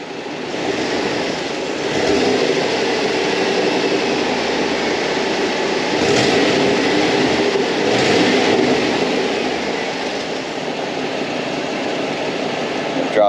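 An OBS Chevy Suburban engine runs steadily after start-up, a continuous broad rumble that holds at an even, fairly loud level with slight swells in intensity and no talk over it.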